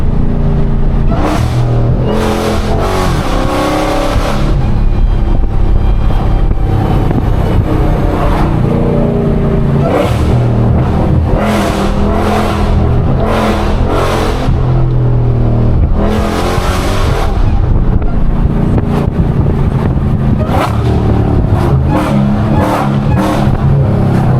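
A loud Hellcat engine revs hard and climbs through gears over and over, roaring close and steady throughout.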